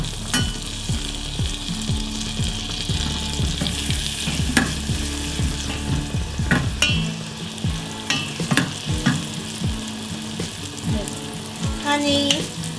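Garlic frying in butter in a pan for honey garlic salmon: a continuous close sizzle with a low hum and frequent sharp clicks and taps from stirring, the hum dropping away partway through.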